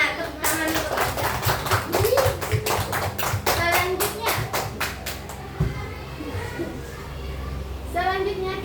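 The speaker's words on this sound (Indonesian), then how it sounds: "Tepuk tangan untuk Anda." A small group, likely children, claps in brisk bursts during an interactive classroom learning activity, sharp hand slaps standing out, with light voices and chatter around them and the clapping thinning toward the end.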